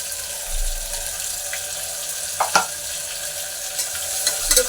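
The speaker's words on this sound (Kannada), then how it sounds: "ಇದು ಫುಲ್ ಹಸಿ ವಾಸನೆ ಹೋಗೋವರೆಗೂ ಎಣ್ಣೆಯಲ್ಲಿ ಫ್ರೈ ಮಾಡ್ಕೊಳ್ಳಿ." Ground paste frying in hot oil for a vegetable rice bath, a steady close sizzle with a few brief clinks and stirring knocks, no voices.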